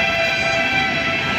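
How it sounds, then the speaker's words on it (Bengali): A train passes close by on the tracks, producing a loud, steady rumbling roar with sustained tonal whine over the whole short stretch, with no talking. "ওই দেখো আমার পাশ দিয়ে দেখো ট্রেন যাচ্ছে"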